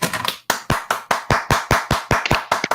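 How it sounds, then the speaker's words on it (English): Podcast participants clap for essential workers in a slow, even rhythm: about ten sharp, close, evenly spaced claps with no talking. "I really think that they deserve a round of applause."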